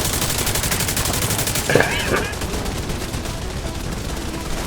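Automatic turrets fire in The Division 2 at the Potomac Center, a steady stream of rapid gunshots throughout with a brief louder burst near the middle, set against constant game ambience.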